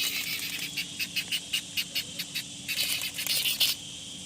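A cicada calls nearby in a quiet setting during the rainy season, a rapid series of sharp, high, buzzing pulses that run together into denser bursts toward the end.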